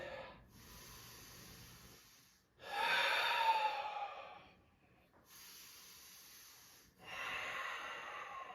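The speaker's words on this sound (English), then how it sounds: "Breathing." Slow, deliberate breathing during yoga practice, with long airy inhales and exhales alternating in a steady rhythm, close and fairly quiet with short pauses between breaths.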